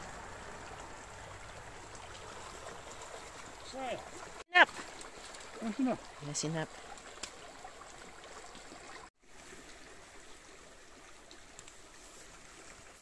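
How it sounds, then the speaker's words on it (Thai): Snowmelt water flows and trickles steadily down a mountain stream near Kaldfjord, Tromsø, Norway, with a few voices speaking briefly over it. "เสียงน้ำตกที่ว่าที่ไหนนี่เองเป็นน้ำที่เขาไหลลงมาจากภูเขานะคะ"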